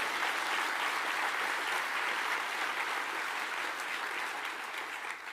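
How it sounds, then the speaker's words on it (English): A room full of people clapping at the Australian Labor Party's election campaign launch in Perth, steady and even, tapering slightly toward the end. "give them a clap"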